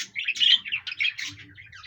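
Pet budgerigars chirping in a home coop: a busy run of bright, high-pitched tweets and warbles, fairly close and continuous throughout, with no talking.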